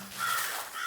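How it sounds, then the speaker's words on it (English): Crows from a flock circling over a scarecrow give a short, faint caw that is harsh and somewhat distant, heard with no talk. "There, already cawing in a fury as they covered that poor excuse of a scarecrow, was a whole flock of crows."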